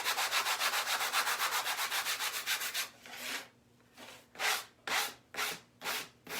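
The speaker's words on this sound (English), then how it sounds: "And we're just going to gently sand this." Painted wood is sanded by hand with a fine-grit sanding block, taking paint off the edges. Quick, even back-and-forth rasping strokes come first, then slower, separate scrubs with short pauses between them. The sound is close and quiet, with no talking.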